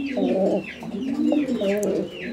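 A male pigeon at a breeding loft coos in repeated deep, rolling phrases, close and steady, with faint chirps from other birds behind it.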